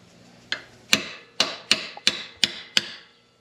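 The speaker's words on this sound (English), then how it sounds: "we're going to take our drift right here, see if we can't get that castle nut to loosen up a little bit" Hammer strikes on a steel drift against the steering-head castle nut of a 1989 Yamaha TW200 motorcycle: seven sharp metallic taps about half a second apart, close and clear, each with a brief ringing tail, and no speech.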